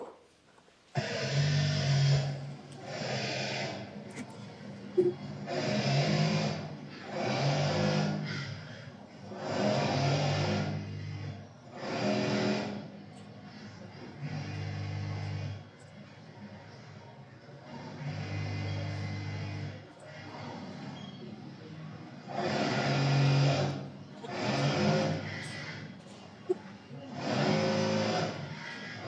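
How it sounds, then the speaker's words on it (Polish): Rhythmic mechanical thumping comes in repeated bursts with short pauses between them, a heavy textile factory machine cycling steadily. "To był dźwięk maszyny, przy której moja mama najwięcej pracowała."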